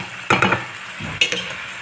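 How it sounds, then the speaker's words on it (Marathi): Dried prawns stirred and frying in a pan, with bursts of scraping and sizzling in two short clusters, close and fairly loud, no voices. "थोडंसं फ्राय करून घ्यायचा."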